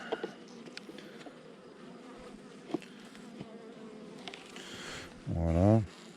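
A close, steady hum of honey bees fills the air around an open hive while frames are handled, with scattered faint knocks and a louder bee zipping past near the mic at the end.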